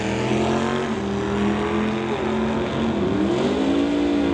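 Drag racing cars, a Plymouth Barracuda and an 89 Mustang, roar together in a loud, steady engine drone with rising and shifting pitch as they launch down the strip.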